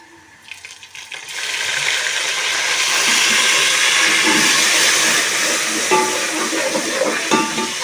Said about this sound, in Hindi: इसमें हम सबसे पहले पानी का थोड़ा सा छींटा लगाएंगे।